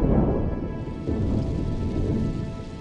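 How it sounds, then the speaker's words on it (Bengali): Heavy rain pours steadily with a deep rumble of thunder rolling underneath in a Bengali cartoon, dense and continuous with no voices. "আবার বৃষ্টি নামলো।"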